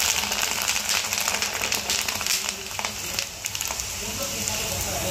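Kurdai, a dried crisp snack, fries in a full wok of hot oil with a steady, dense sizzle and crackle that holds throughout, fairly close and continuous with no talk.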